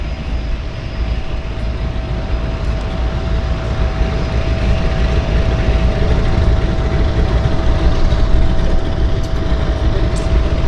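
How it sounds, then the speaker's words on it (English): Radial engines of floatplanes at a downtown harbour airport run with a steady, rough low rumble and a droning hum, close and loud, holding level for about ten seconds with no voices. "I love the sound of the round engines."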